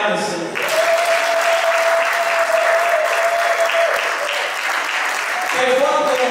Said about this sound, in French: Azaria, on acclame le Seigneur.